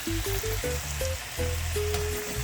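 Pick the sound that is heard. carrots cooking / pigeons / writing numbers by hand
carrots cooking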